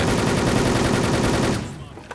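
Rapid automatic gunfire from the online shooter Wolfteam fires in a loud, steady rattle for about a second and a half, then cuts off and leaves faint room noise and a single click.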